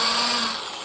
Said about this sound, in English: drill and then pull out.